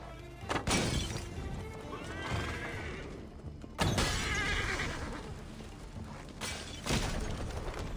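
A horse whinnies loudly twice in Assassin's Creed Valhalla, with sharp crashing and clattering sounds mixed in, in a busy game soundscape.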